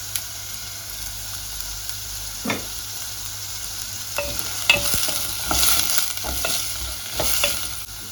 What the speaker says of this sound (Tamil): வெட்டி வச்சிருந்த வெங்காயத்தை சேர்ப்போம்.